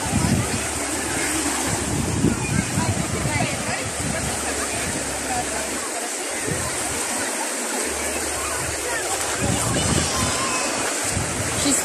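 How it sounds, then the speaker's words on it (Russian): Surf rolls onto a sandy Black Sea beach at Dzhemete, Anapa, in August, a loud churning wash of breaking waves with gusts of wind buffeting the microphone and a few brief lulls. "какая волна."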